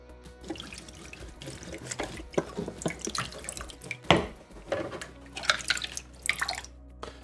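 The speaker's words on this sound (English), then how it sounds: "Now it's time to get the plastics in the basin and give them a good wash." Plastic water filter parts being washed in a basin, with running water, splashing and dripping, plus light knocks of plastic, moderately quiet and close.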